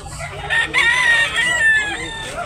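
Roosters crow and hens cluck at a poultry market selling gamefowl, with one crow loud and close over a busy background.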